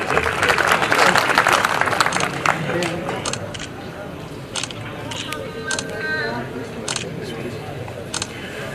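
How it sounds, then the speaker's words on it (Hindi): Applause from an audience at a prize-giving ceremony, a burst of clapping that starts loud and thins into scattered claps with camera shutter clicks, fairly close. "भाई लोगों, चैंपियन के लिए बहुत सी तालियां तो बजा दीजिए"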